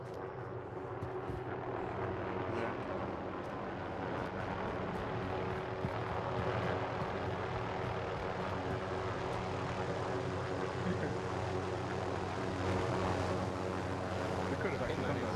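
Helicopter in a multiplayer shooter video game, its steady rotor and engine drone running loud and continuous throughout, with a player voice chatting over it.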